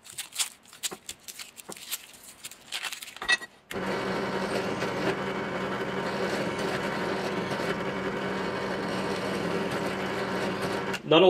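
A drill boring holes in a metal guitar pedal enclosure for a stompbox build, a steady continuous whine running for several seconds after some brief handling clatter.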